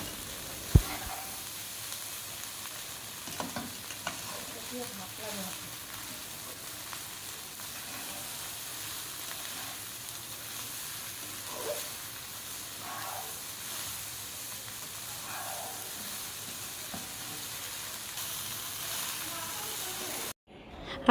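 Mixed fried rice stir-frying in a pan over high heat with green chilies, a steady close sizzle running throughout with faint scraping stirs and occasional light ticks.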